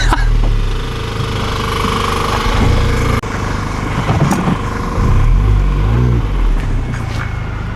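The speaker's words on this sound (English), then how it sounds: "We're gonna do a burnout." A Mini Cooper S with its muffler deleted roars through a burnout, a loud, raw engine drone with rising revs and rough pulsing, close and unbroken throughout.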